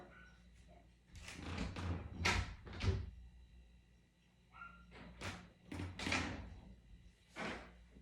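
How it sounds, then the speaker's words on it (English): A room door is shut from inside during a dog training session, giving a few soft thuds and knocks in a quiet indoor space, with pauses between the bumps. "I'm going to actually shut this door behind me"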